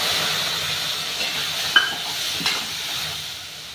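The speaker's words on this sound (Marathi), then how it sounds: "आता 1 वाटी आंब्याचा रस केलेला आहे तो टाकून घ्यायचा।" Mango juice poured into hot roasted semolina (rava) for mango sheera gives a steady, close sizzling hiss, with a couple of brief soft knocks partway through. No one speaks.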